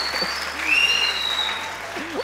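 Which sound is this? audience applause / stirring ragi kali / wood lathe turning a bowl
audience applause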